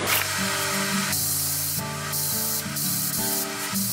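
An HVLP spray gun spraying paint in a small shop, a loud continuous hiss of air with a droning tone beneath that changes pitch in steps as the spray is adjusted.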